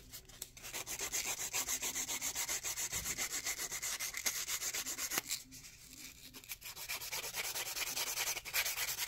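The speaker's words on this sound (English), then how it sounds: "I'll sand it a little bit." Close, steady rhythmic rubbing as a small ammonite wire-wrapped pendant is sanded, with quick back-and-forth strokes continuing throughout; no talking.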